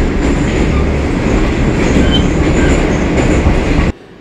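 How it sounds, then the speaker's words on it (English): Old Moscow Metro train rumbles and roars loudly at full speed from inside the car, a steady dense din with faint wheel squeal, cutting off abruptly at the end. "another design flaw of the trains is that they're insanely loud"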